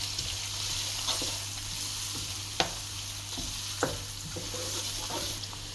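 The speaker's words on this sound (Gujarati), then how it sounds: "ત્યારબાદ એમાં ડુંગળી એડ કરીશું અને એને સતળાવા દઈશું થોડી વાર માટે મિક્સ કરીને." Onions sautéing in a pan for Rajasthani dal, with a steady broadband sizzle and several sharp spoon-scrape and stirring clicks scattered through, close and moderately quiet, no voices.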